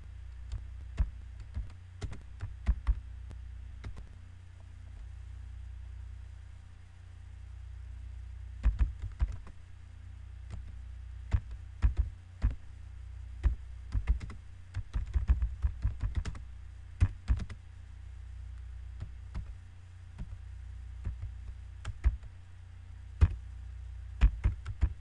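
Fingers type on a computer keyboard in irregular bursts of quick clicks, separated by short pauses, close and fairly quiet over a low steady hum.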